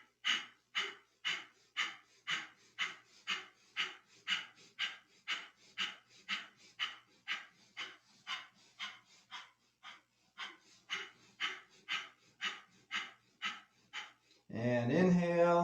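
Rapid, forceful breathing through the nose during a Kundalini yoga kriya: about thirty even, sharp bursts at roughly two per second, close and alone, followed at the end by a brief sustained voiced tone.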